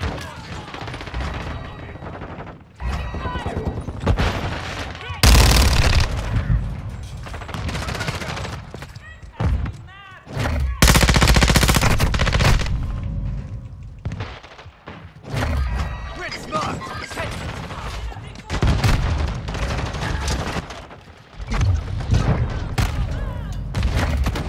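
Gunfire in a shooter video game comes in bursts: single shots, rapid automatic fire and heavy thuds, while players talk over much of the action.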